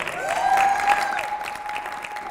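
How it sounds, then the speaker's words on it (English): Audience applause at a breast cancer awareness press conference in Southfield, steady clapping over about two seconds with a few cheers and a whistle above it. "One more round of applause."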